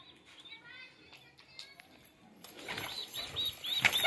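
Pigeons fluttering and flapping their wings as they return into a loft in the evening, a burst of wingbeats growing louder and busier in the second half, with faint coos and no talk.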